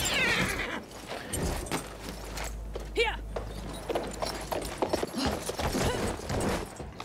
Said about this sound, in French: Allez cheval,